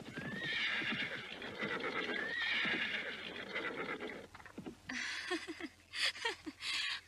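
A horse in a radio drama neighs loudly twice, with hooves clip-clopping close by throughout, then a flurry of sharper hoof clatter and movement near the end.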